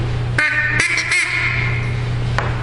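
Several short quacking blasts from a wooden duck call sound close by, a few in quick succession and one more after a pause, over a low background hum.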